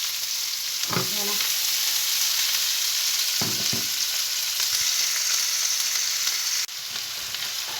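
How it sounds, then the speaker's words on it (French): Onion goes into hot oil in a pan for moussaka, after garlic, and sizzles steadily throughout, with a couple of brief stirring scrapes and clatters near the start and middle of the close, continuous frying hiss. "Et on va rajouter l'oignon."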